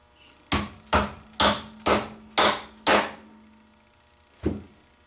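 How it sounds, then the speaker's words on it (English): Rubber mallet tapping a bearing and gear onto a Kubota belly deck gearbox shaft: six evenly spaced, solid thuds in quick succession, then a pause and one final tap, close and clear. "I'll take a rubber mallet hammer and tap it on"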